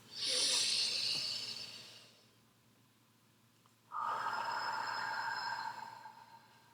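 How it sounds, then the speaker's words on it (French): A slow, deep breath taken as part of a guided breathing exercise: a long airy inhale, a pause of near silence, then a long steady exhale, close and fairly loud, with no talking. "Arrêtez de tapoter et prenez une grande respiration."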